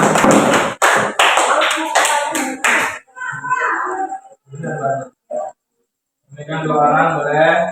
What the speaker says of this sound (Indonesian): Yang lain kasih tepuk tangan dulu.